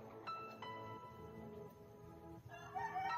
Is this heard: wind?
no